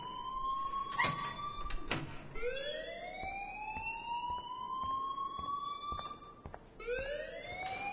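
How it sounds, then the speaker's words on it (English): A rising and falling electronic alarm siren wails steadily in Life is Strange, sweeping up in repeated long tones, loud and continuous with a few sharp thuds. "please turn off that alarm since that's your job"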